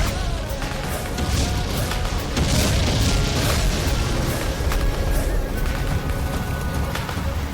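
A firecracker warehouse explodes in a Telugu TV serial scene: a loud, sustained booming roar with crackling bursts fills the whole stretch without letting up.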